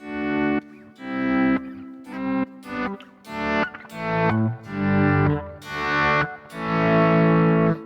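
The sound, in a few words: Boss GT-1000 slow gear guitar volume swell effect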